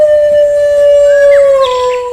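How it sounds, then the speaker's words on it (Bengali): A dog howls mournfully before dawn in a village, one long sustained wavering wail that holds steady and close throughout, with no other sounds beneath it. "সেই ভোর রাতে ভেসে আসা কুকুরের করুণ আর্তনাদ"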